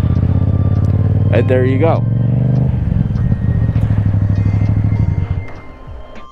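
A motorcycle engine runs close and loud as the rider brakes and clutches down toward first gear for a turn, revs dropping and shifting under steady talk from the rider.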